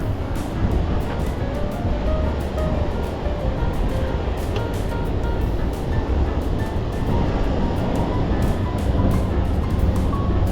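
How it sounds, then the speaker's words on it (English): Continuous low roar of surf with big post-hurricane waves at Sunset Beach, Florida, a windy, rumbling wash, steady throughout, with faint intermittent clicks and no speech. "I hear a lot of surf roar, and I see already big waves"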